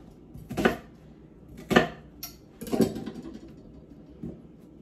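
A knife cuts through a cabbage into wedges for corned beef and cabbage, three distinct crisp crunching chops spaced about a second apart, then a fainter fourth, with no talking.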